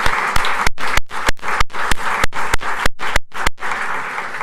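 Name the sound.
audience round of applause for candidates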